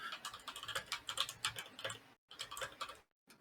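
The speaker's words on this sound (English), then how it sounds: "typing furiously" Fast typing on a computer keyboard: dense bursts of quick key clicks close by, broken by two short silent pauses, with no voices.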